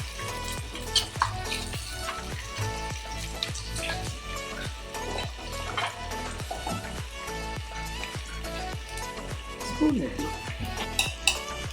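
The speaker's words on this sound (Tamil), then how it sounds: "தக்காளி வதங்கட்டும். இதிலே கொஞ்சம் உப்பு போட்டுக்கலாம், சீக்கிரம் வதங்கிடும்." Tomatoes with salt sauté in a pan for a quail gravy, crackling and sizzling continuously up close, with frequent spoon scrapes and taps against the pan marking an irregular stirring rhythm.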